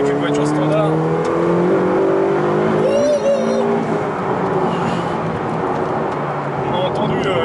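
A 2018 Ferrari 488 Pista engine pulls hard in fourth gear on a road, its rising roar heard from inside the car, with a brief gear shift midway as the pitch climbs.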